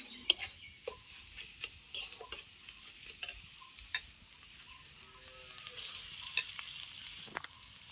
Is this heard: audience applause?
no